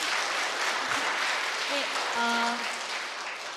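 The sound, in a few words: church congregation applause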